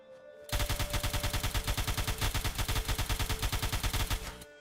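A suppressed rifle in Fallout 4 fires one long, steady automatic burst of closely spaced shots lasting about four seconds, loud and close, with no voices over it.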